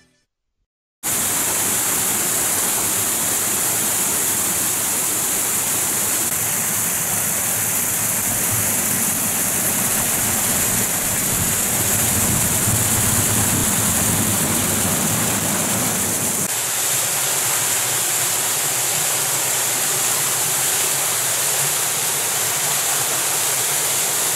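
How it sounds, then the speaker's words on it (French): A mountain torrent pours into the Levada canal on Madeira, making a dense, continuous rushing roar of water that starts abruptly and holds steady and loud throughout. "La Levada reçoit parfois un ajout d'eau provenant d'un torrent."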